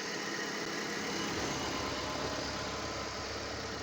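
A Chery E5 car engine with broken radiators runs briefly at a dismantling yard, giving a steady, even idling drone with a broad hiss, moderately loud and unchanging throughout.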